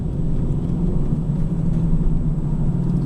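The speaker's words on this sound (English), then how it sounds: "We'll pull away in first gear, pulls away nice and clean." Vauxhall Vectra running on LPG pulling away in first gear, a steady low engine rumble close by, smooth and quiet with no clutch snatch, continuous throughout with no talk.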